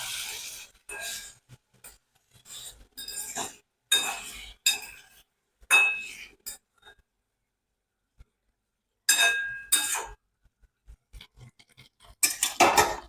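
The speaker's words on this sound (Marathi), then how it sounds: "आता ह्या मिश्रणात आपल्याला ते साखरेचं पाणी करून घेतलेलं ते टाकून घ्यायचंय." Moong dal halwa with sugar syrup added and stirred in a pan over low heat: intermittent metallic clinks and scrapes of a spoon against the vessel come in short bursts separated by quiet pauses.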